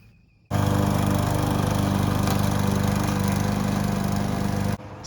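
A gasoline lawn mower starts up and runs steadily at close range with a loud, even engine drone, then cuts out near the end.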